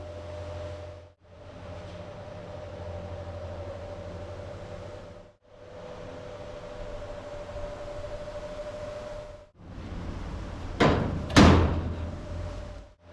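A VW Beetle oval pickup truck's cover, fitted with gas struts, closes in a few soft thuds against rubber buffers, the last closing ending in a louder bump, over a steady background hum.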